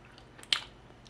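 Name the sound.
chewing raw honeycomb wax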